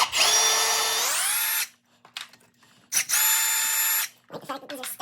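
A power tool spins out oil pan studs on an FD RX7 in two loud, close bursts, each winding up in pitch, with a faint ratcheting clatter and small handling noises between.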